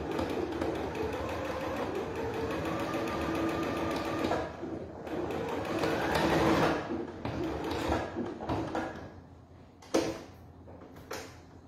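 A sewing machine stitching the fabric legs of a handmade doll sewn from scrap fabric: a fast mechanical whirring run, close up, that slows and stops with a few clicks and handling knocks near the end.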